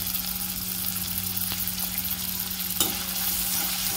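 Curry leaves crackle in hot oil in a pan as they are stirred. An even, loud sizzle fills the whole stretch, with a couple of faint clicks of the spoon against the metal.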